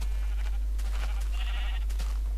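A sheep bleats in a Minecraft-like video game, a couple of wavering cries over a steady low hum, fairly close and clear with no talk.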